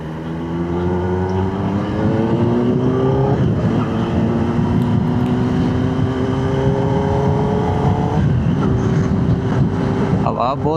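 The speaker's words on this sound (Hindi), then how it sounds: "हवा बहुत तेज़ है और मुश्किल हो गया अभी राइड करते हुए" Wind buffets a Kawasaki motorcycle ridden on a highway, a loud constant roar blended with the engine's rising and shifting drone that stays steady throughout.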